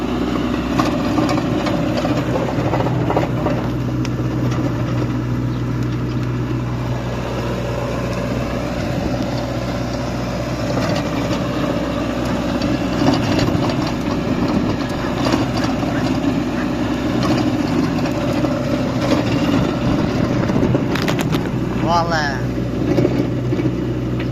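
A Lovol 354E tractor with a Wirax 160 rotary tiller runs steadily in the field, its engine giving a constant close drone throughout, while people talk over it.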